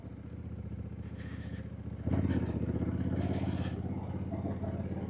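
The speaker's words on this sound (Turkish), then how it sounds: "Duyuyorlardır inşallah motorun sesini." A motorcycle engine runs steadily at close range, its low rumble rising noticeably louder partway through and holding there.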